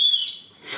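A small whistle built into a New Balance YURT sneaker gives one short, loud, high-pitched blast that fades, then sounds again briefly at the end.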